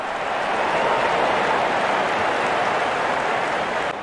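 Heavy rain pours down steadily during a cricket match, making a dense, constant hiss that stays loud throughout with no break.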